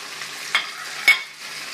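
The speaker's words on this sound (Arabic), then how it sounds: "أول شي بنحط الزيت والزبدة بالقلاية بنسخنهم، بعدين بنضيف صدر الدجاج" Chicken breast fries in heated oil and butter in a pan, a soft, continuous sizzle with two brief, sharper spatters rising over it.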